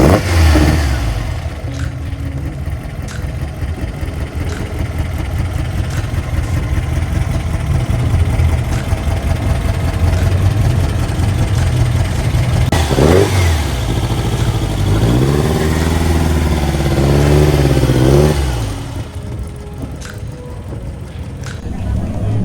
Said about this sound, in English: And when you hear this thing fire up, it definitely brings you back to a different time.